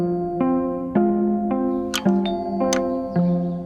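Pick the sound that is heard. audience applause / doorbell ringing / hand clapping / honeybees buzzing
doorbell ringing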